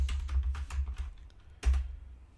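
Rapid, uneven keystrokes on a computer keyboard, close and clear, with a short pause before a final burst of clacks.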